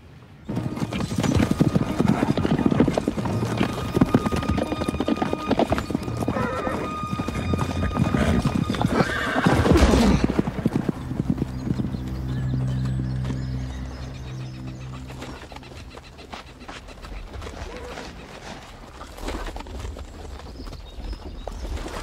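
A horse gallops in a film scene with rapid, loud hoofbeats and a whinny, then the hooves ease off into a quieter stretch. Voices can be heard speaking along with it.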